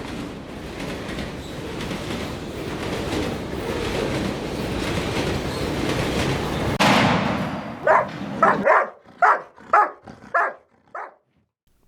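Several dogs bark sharply in a rapid series of loud, close barks, following a long rumble of a train on the rails that cuts off abruptly.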